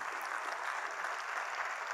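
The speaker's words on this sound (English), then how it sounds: "I think it deserves a big round of applause to all the acharyas" Audience applause at a talk on dharmic education, a steady dense wash of many hands clapping together, even and sustained from start to finish with no voices on top.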